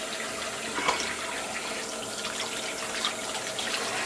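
Tap water running into a sink while makeup brushes are rinsed, a steady close hiss and splash with a few small bursts as the brushes move through the stream, no talk.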